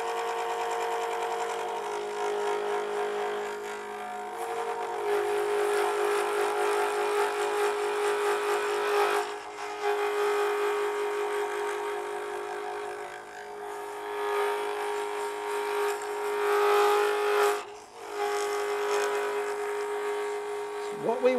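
A lathe spinning a stone pen blank while a roughing tool cuts it, a steady motor whir with a grinding, scraping buzz that swells and dips as the tool is worked along, close, with someone talking at times.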